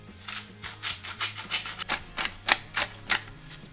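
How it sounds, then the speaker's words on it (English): A whisk beats milk into a thickening sauce to break up lumps, making rapid rhythmic scraping strokes against the pan, close and fairly quiet. "with the whisk, I'm just getting all the lumps out"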